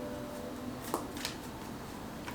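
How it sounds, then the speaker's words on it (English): A deck of oracle cards is shuffled by hand, producing soft papery riffles and a few light snaps, close but faint over steady background hiss. "Let me shuffle"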